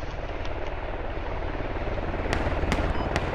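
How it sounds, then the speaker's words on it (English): An enemy helicopter in a video game throbs with steady rotor chop throughout, joined near the end by a few sharp gunfire-like cracks, with no voices over it. "Enemy heli"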